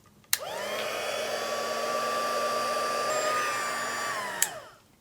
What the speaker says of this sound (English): I'm going to heat emboss my greeting using my heat tool